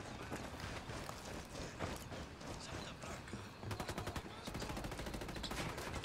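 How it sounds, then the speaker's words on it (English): Rapid bursts of mounted machine gun fire in a video game, dense and continuous amid other battle noise, with a tight rhythmic stutter toward the end. "that's a mounted machine gun."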